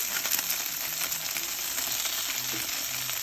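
Bacon-wrapped jalapeno poppers sizzle on a Blackstone griddle, a dense, steady hiss and crackle of frying fat that carries on evenly and up close with no voices.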